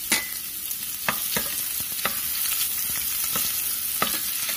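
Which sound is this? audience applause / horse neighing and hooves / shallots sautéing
shallots sautéing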